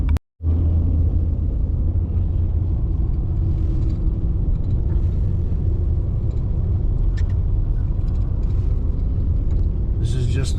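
A snowmobile runs on a trail to 12 Mile Summit in 30-below cold, its engine making a loud, constant, close rumble that fills the whole stretch after a brief start and ends with a short burst of higher noise.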